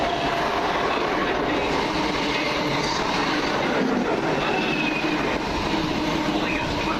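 Class 377 electric train 377 613 arrives at a station platform with a steady, loud rumble of wheels and motors rolling in close by, continuous throughout, with a faint hiss and no voices.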